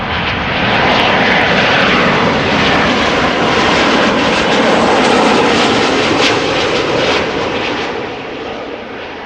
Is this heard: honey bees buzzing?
no